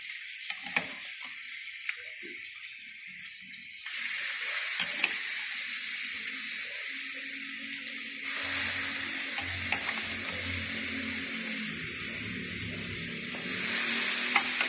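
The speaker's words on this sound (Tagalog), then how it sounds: "Yung buto-buto po yung baboy. So, ginigisa na po natin." Boiled pork bones sautéing in a pan, loud broad sizzling that surges in waves as the meat is stirred, with occasional clinks and no talk.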